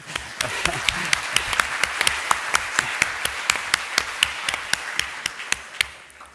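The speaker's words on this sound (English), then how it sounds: "Can we give him a little round of applause?" A modest audience at a policy discussion gives a short round of applause, a thin patter of individual claps with a few sharp, distinct hand strikes standing out, steady for several seconds before tapering off.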